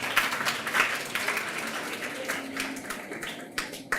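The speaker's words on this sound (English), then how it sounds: "Let's give them a hand, please" Audience applause at a Grade 6 graduation ceremony, a steady wash of many hands clapping at moderate distance for the full stretch, with a few sharper claps standing out.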